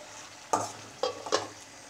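A spoon stirs chow chow (chayote) paal kootu in a cooking pot, making three separate wet scraping strokes against the pot, close and moderately loud over a quiet background.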